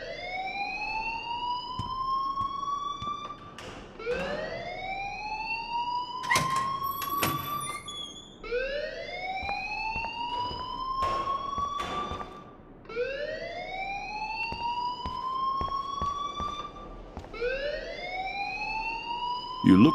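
A video game alarm rings in a repeating rising whoop, each sweep climbing in pitch and cycling steadily and loudly, with brief clicks and a voice occasionally cutting through.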